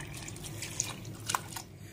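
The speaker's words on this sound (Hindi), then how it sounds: "तो यहाँ पर हम सादा पानी डाल देंगे अब" Plain water poured into a cooking pot while making degi pulao, heard as a steady close splashing and trickling with a few brighter drips, alone without talk.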